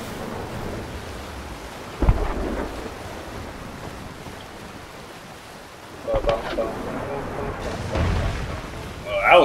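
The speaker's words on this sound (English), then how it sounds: "You're just wasting cannonballs." Booming cannon blasts from pirate-ship combat in the video game Sea of Thieves, with heavy low thumps near 2, 6 and 8 seconds over a constant wash of ocean waves and wind.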